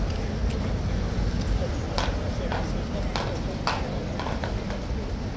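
Horse hooves clip-clop steadily on hard ground at Horse Guards in London, rhythmic and fairly close, set against a dense, noisy crowd murmur with voices talking.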